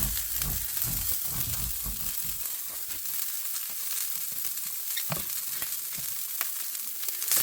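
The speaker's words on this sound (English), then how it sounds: "We're gonna toss these onions on there." Onions sizzle steadily in a hot Smithey Farmhouse cast iron skillet with olive oil, a continuous close hiss with heavier crackle at the start and occasional sharp pops.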